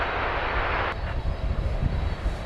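An airliner lands at DFW Airport, its engine roar loud and broadband at first, then dropping sharply and settling into a lower rumble.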